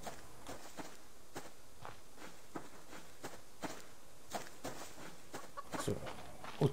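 A chicken in the survival video game Subsistence clucks in a steady string of short, soft calls at moderate distance over a low ambient bed, with a louder rustle near the end.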